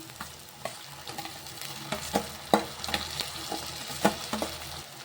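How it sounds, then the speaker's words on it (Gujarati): Crushed cabbage for dry Manchurian is stir-fried in a hot pan, with steady sizzling and repeated scraping stirs clacking against the metal at an irregular rhythm, close and moderately loud, with no talk. "હવે એને પણ મસ્ત મજાની આપણે મિક્સ કરી લેશું જ્યાં સુધી બ્રાઉન કલર ન આવે ત્યાં સુધી આપણે એકદમ મિક્સ કરતું રહેવાનું છે"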